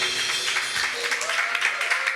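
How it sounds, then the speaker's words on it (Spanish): Church congregation applauding, a dense steady wash of clapping hands throughout, fairly loud and even with no clear voices on top. "Dale ese aplauso al Señor."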